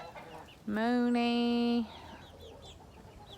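A chicken gives a loud, drawn-out squawk close by as young chicks and a small rooster are let out of a coop on a farm, followed by fainter chirps and clucks in the background.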